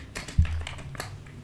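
Quick, light keystrokes as code is typed on a computer keyboard, a short cluster of close taps with a slightly heavier key press, no voices.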